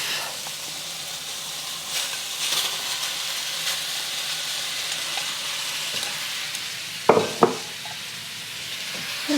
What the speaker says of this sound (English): Now I'm adding my beef.